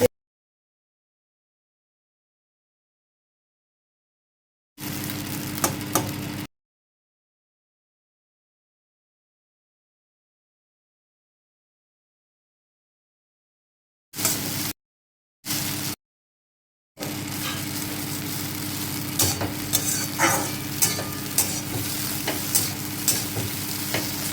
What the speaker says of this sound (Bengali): এরকম করে ম্যাগি চাউমিন মিশিয়ে তোমরা খেয়ে দেখবে কেমন হয়